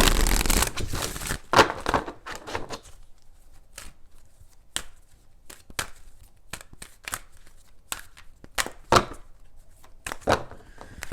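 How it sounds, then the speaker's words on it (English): Tarot cards are shuffled in several quick riffling bursts, crisp and close, separated by short pauses with light handling taps between them. "let's do 3 shuffles"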